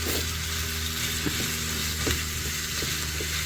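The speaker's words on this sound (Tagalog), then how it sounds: "medyo gigisaw muna natin to medyo prituin natin ng konti para masarap siya" Minced beef sizzles steadily in a pan with olive oil, a close, continuous frying hiss with a few faint pops and scrapes underneath.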